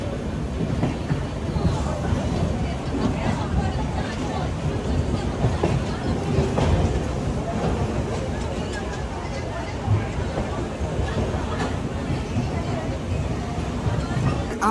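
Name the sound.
Tamralipta Express train running, clickety-clack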